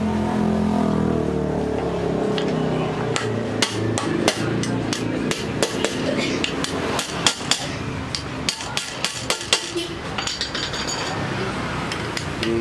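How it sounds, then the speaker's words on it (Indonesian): A hammer taps a part of a Typical GN794D servo overlock sewing machine tight from below, a long series of sharp metallic knocks, irregular and close, over a steady background hum. "Digetok ya dari bawah."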